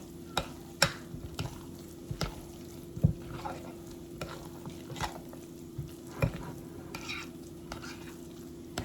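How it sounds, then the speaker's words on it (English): A spoon stirs a thick chicken dressing mixture in a pan, with repeated scraping strokes and soft knocks in an irregular rhythm over a faint low sizzle and hum, with no speech. "Now I stir this up. Get this mixed in real good."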